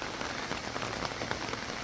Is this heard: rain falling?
yes